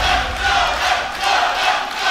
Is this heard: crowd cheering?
yes